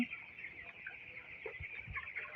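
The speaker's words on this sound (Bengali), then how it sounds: "এগুলো হচ্ছে আমাদের আমান কোম্পানির বাচ্চা" A flock of eighteen-day-old Aman company broiler chicks on a poultry farm gives soft, scattered clucks and chirps, quiet and fairly distant, with no one speaking.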